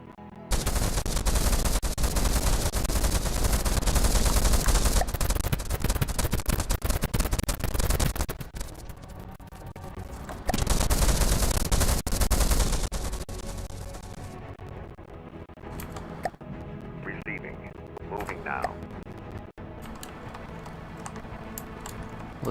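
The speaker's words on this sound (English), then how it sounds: "Listen to the burr cannon roar." Rapid autocannon fire from a boat in a video game: loud, dense bursts hammer out for several seconds, break briefly, then resume before giving way to quieter game sounds.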